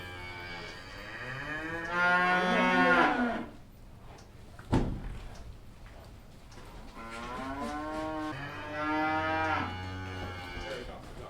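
A cow and heifers mooing in long, loud, drawn-out calls, one early and another later, with a sharp knock between them and no talk.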